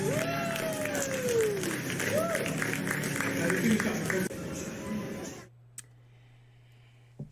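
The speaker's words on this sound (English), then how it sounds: "How about we give it another round of applause?" Audience applause and crowd noise at a tiger show beside a pool at Dream World's Tiger Island, loud and sustained under a host's amplified voice, then breaking off abruptly into near silence.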